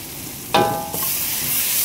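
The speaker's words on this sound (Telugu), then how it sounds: "బాగా ఫ్రై చేసి బాగా కలుపుకోవాలి." Dosa masala filling fries in a pan with turmeric and half a lemon, a sudden loud sizzle bursting in midway and settling into a steady hiss.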